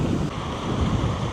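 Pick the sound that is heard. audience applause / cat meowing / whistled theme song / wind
wind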